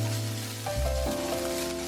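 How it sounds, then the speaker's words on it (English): Minced pork sizzles steadily in a hot pan with Sichuan broad bean paste, a close, continuous frying hiss with soft scraping and stirring noises throughout. "Stir fry until the pork is cooked."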